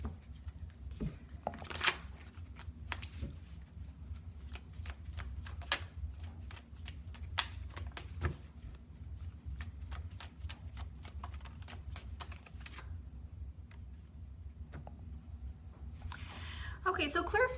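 A tarot deck being shuffled, soft repeated card riffles and flicks in a quiet room over a low steady hum, with a brief voice near the end.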